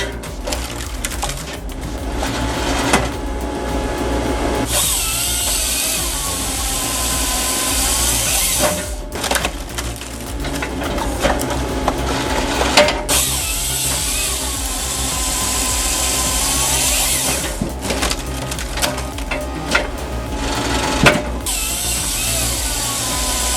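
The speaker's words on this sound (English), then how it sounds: "This excavator setup is next level for firewood." A firewood processor runs off an excavator and cuts 16-foot logs. Its heavy engine drones loud and steady, with grinding and crunching surges and sharp knocks throughout. No voices are heard.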